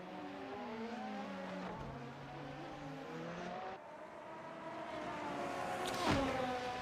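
Race car engine pushing hard on an out lap in a racing video game at the Japanese Grand Prix, steady revving with gear changes and rising pitch, loud and continuous.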